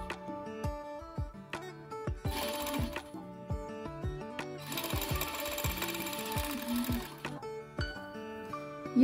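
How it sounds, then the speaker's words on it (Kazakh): An overlock sewing machine runs in bursts while stitching the edge of fabric for children's summer shorts, a fast mechanical whirring that starts and stops several times with short pauses and handling clicks between runs. "Мен қазір оверлокқа саламын."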